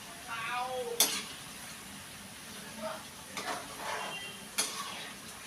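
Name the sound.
potatoes frying in a pan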